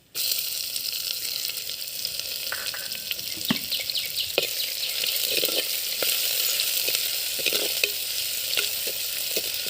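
Crushed shallots sauté in a hot pan with an even, loud sizzle that starts abruptly, while scattered scraping and clicking from stirring pops through the hiss.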